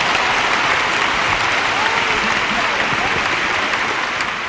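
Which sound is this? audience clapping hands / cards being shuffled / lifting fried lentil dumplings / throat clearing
audience clapping hands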